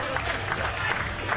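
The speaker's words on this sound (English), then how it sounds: "Lots of warm applause" Warm, steady applause comes from the audience at a men's -88 kg powerlifting event at the 2015 IPC European Open Championships in Eger, with a commentator's voice heard over the clapping.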